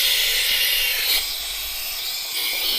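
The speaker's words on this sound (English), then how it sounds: "try to pop the tire onto the rim with compressed air" Compressed air blasts loudly and steadily for nearly three seconds as a bike tire is seated onto a Fulcrum Zero two-way rim, with a slight surge partway through and no talking.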